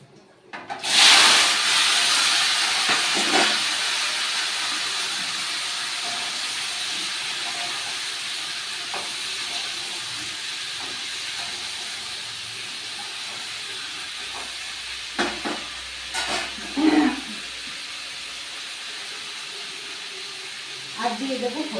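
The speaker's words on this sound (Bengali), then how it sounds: "এবার এর মধ্যে সিদ্ধ করে রাখা আলু, মটরশুঁটি, টমেটো দিয়ে দেবো।" Boiled potatoes, peas and tomatoes hit hot oil seasoned with five-spice, setting off a sudden loud burst of hissing sizzle that settles into a steady spitting fry, with brief talk in the background.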